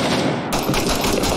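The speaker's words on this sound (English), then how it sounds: "See if I can take some shots at him." Automatic gunfire in the video game Six Days in Fallujah, a loud rapid string of shots that sharpens into a brighter, closer burst midway through.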